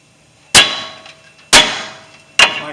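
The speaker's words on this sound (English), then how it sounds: "I'm going to take a hammer and I'm going to hit it right here so it knocks that free." Three sharp metallic hammer blows on a 2008 Chevy Silverado 1500 tie rod, spaced about a second apart, each ringing briefly before fading; close and loud with no talking.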